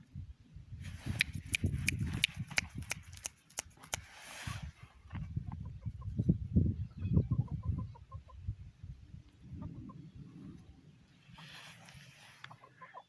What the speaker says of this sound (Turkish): Bu da beyaz horoz.